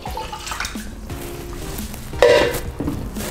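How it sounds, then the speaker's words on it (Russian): A liter of water pours into a cooking pot for a pepper marinade, giving a close, steady splashing stream that swells louder toward the end. "В кастрюлю наливаю литр воды."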